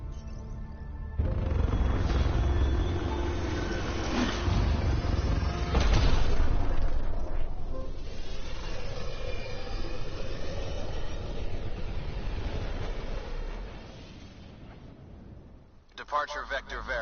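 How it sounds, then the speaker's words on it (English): The Tempest spaceship departs in the video game Mass Effect Andromeda with a loud, sustained engine roar and rumbling booms, then fades near the end, with voices talking over it. "Nexus Control, this is the Tempest, ident 2527, prepping to depart."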